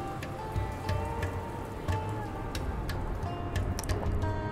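Rain pouring in the video game Dustland Delivery, a steady patter of drops with scattered sharper ticks, moderately loud and continuous throughout, with no speech.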